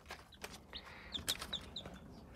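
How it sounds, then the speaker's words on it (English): Day-old chicks peep repeatedly in a brooder box made from a non-working chest freezer with the lid removed and sand litter, the high chirps coming quickly and fairly close over a faint background hiss. "these are day old chicks"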